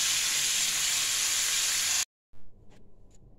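Bhetki fish bones fry in hot oil in a pan, a steady loud sizzle that cuts off abruptly, followed by fainter crackles and small clatters.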